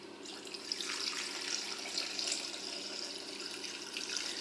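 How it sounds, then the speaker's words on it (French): Water runs from a tap into a pot holding coq au vin marinade, a quiet steady splashing stream with no voices. "on va compléter avec de l'eau jusqu'à ce que on arrive jusqu'en haut"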